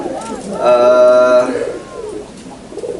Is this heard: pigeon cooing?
yes